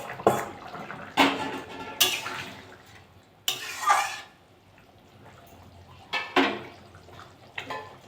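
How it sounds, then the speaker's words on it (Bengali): Prawns go into a simmering potato and pointed gourd curry in a pot, making several separate splashy, clattering bursts close by with quieter bubbling between them. "আমি এবার চিংড়ি মাছগুলো দিয়ে দেবো।"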